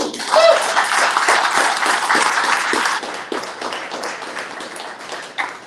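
Audience applause at an evening book presentation, a steady burst of clapping from a room of people that thins out toward the end, with a voice talking briefly over it.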